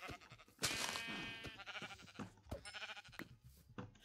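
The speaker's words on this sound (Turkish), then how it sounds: "Şöyle bir tane daha koyun bulabilirsek." A sheep bleats in the Minecraft video game with a bright, wavering cry, followed by quieter game sounds and a few more faint bleats.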